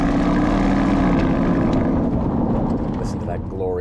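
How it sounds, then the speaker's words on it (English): A 2024 Porsche Cayenne S with a 4-litre V8 revving on the road, a deep, loud, throbbing engine drone heard from inside the cabin that eases off toward the end, with a voice talking over it. "That is the sound of 8 cylinders of fury."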